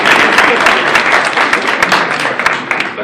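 Audience in an auditorium applauding, a dense, loud burst of many hands clapping together, sustained and fairly close for the whole stretch.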